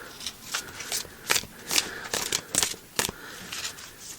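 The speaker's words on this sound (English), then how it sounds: "let's go ahead and draw a card." A deck of oracle cards is shuffled by hand before a draw, giving repeated riffling and sliding bursts in an uneven rhythm, close and fairly loud, with faint talk in the background.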